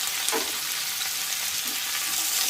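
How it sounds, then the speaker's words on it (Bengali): Thinly sliced raw green tomatoes fry with onion and chilli in a pan: a dense, loud, continuous sizzle with faint stirring scrapes, heard up close and alone. "আর এটাকেও একটু ভালো করে ভেজে নেওয়া হবে।"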